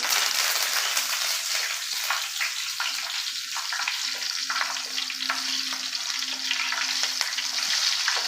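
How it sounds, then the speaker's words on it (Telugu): Cumin, green chillies and curry leaves fry in hot oil for a fish curry, giving a bright, dense crackling sizzle close by with occasional stirring clicks and a faint steady hum underneath. "కొంచెం వేయించుకోవాలి త్వరగానే తర్వాత జీలకర్ర కూడా వేస్తున్నాను"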